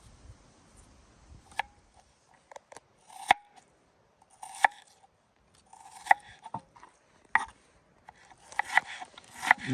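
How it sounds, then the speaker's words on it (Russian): A knife cuts radish into thin strips on a board at an outdoor forest cooking spot, making short, crisp taps and slicing clicks in irregular bursts, fairly close, with no talking. "Нарезаем редис соломкой."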